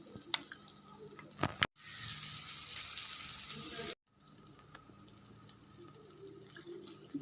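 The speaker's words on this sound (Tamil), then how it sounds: "இப்போ இந்த மிக்ஸி ஜாரையும் கழுவி ஊற்றிக்கலாம்." Water used to rinse a mixer jar is poured into a pan of black pepper gravy, making a short, steady splashing gush of about two seconds between quieter kitchen clatter.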